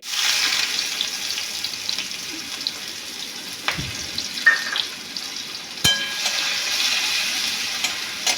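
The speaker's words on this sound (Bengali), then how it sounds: "এরকমভাবেই আমি সমস্ত পনিরগুলো ভেজে নেব" Paneer pieces frying in oil make a steady sizzle, broken by a few sharp clatters and brief splashy bursts as the pieces are moved in the pan.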